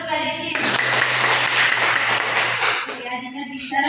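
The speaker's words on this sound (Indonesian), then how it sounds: "tepuk tangan untuk adik-adik" Children clapping their hands in a classroom maths lesson, a short burst of brisk, lively applause lasting a couple of seconds, with voices before and after it.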